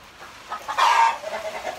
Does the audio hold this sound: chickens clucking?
yes